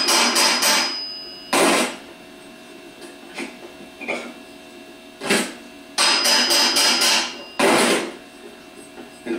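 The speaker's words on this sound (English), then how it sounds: "tap around on the outer edges of the end plate. Also, you can tap directly on the bushing." A hammer taps on the end plate of a 5MT starter motor during a rebuild, striking in short bursts of several sharp metallic blows, loud and close, separated by pauses with a few lighter single taps between.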